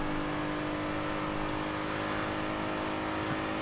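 A 2014 Maserati Ghibli S with an 8-speed gearbox pulls hard in Forza Horizon 2, its engine note holding a steady, sustained drone under constant load with no one speaking.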